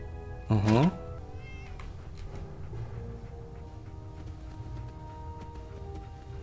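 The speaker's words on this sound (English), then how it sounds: "Is that a child crying or a cat? Meowing." A single short, clear meow from a cat in the video game Fallout 4, followed by low background game ambience with no further calls.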